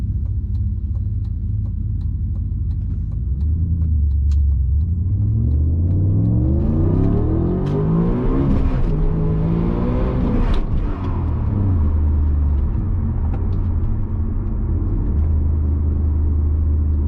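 A rear-mounted turbo Audi RS4 with traction control off accelerates hard in a loud, sustained engine roar heard from inside the car, the pitch climbing through rising revs before easing back to a lower rumble.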